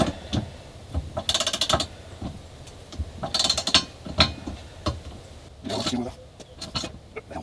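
A torque wrench tightens bolts on a Sierra Teleflex Safe-T QC steering system during a Boston Whaler restoration, giving bursts of ratcheting clicks alongside metallic clinks and creaks, close and fairly loud, with a few brief gaps between bursts.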